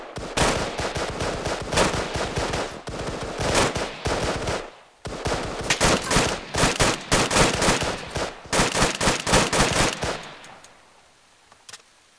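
Sustained automatic gunfire from ARMA 3, a military shooter, with dense rapid bursts and overlapping fusillades from several weapons, loud and close, briefly pausing once and fading out at the end.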